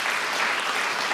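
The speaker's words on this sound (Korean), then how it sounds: "박수 한번 부탁드립니다." Audience applause at a Korean public gathering, steady dense clapping from a crowd throughout the short moment, with no talk over it.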